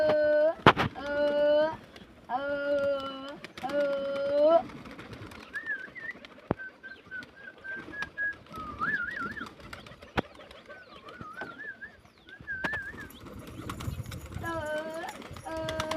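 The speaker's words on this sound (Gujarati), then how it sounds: "તો બધા કબૂતર બાણ આવી ગયા ને ભાત પાસે પતી ગયા" Pigeons coo in wavering, repeated calls on a rooftop where rice has been scattered for them, close by and fairly clear, with human voices and other noises at the start and end.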